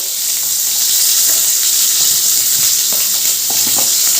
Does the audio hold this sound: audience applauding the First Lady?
no